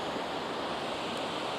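Creek water flowing toward Lake Delton in the Wisconsin Dells, a continuous even rushing wash, steady and fairly close with no breaks.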